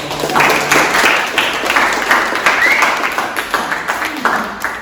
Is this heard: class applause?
yes